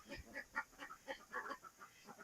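Backyard ducks quack in a quick, irregular series of short nasal calls, faint and somewhat distant, with no one talking over them.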